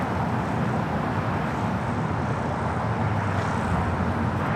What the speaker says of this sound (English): Delta Airlines Flight 718 heading to Orlando, Florida. 1-year-old A321neo. Next takeoff. Now rolling on 25 right.